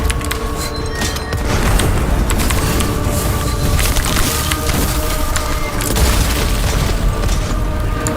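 Shotgun blasts against wretches in the Witchfire video game, heavy booming shots layered over a dense, loud stretch of combat noise with sharp splintering cracks throughout.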